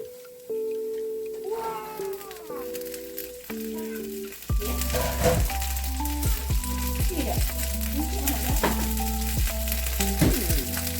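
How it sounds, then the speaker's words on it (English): Green beans sizzle and crackle loudly in a hot frying pan, a steady frying hiss with stirring clatter, following quieter kitchen sounds at first. "Here's the sizzle."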